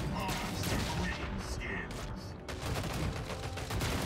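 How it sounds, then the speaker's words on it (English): A grenade is thrown in the battle game Warhammer 40,000: Storm of Vengeance, over a dense, continuous din of overlapping gunfire and explosions that stays loud for the whole stretch with only brief dips. "Let's throw a grenade just down forward on there."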